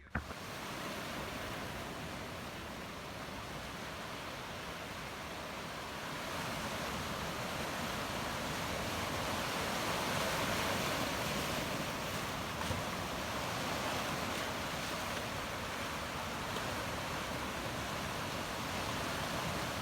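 Ocean waves break and surge along the coast at St Ives, Cornwall, a dense continuous roar of surf that swells gradually louder, with some wind buffeting and no talking.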